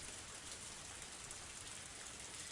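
Steady, faint rain hisses evenly in the Higurashi video game, a soft constant wash of falling water on a woodland path with no voices or other sounds.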